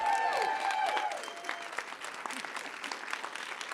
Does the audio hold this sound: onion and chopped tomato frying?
no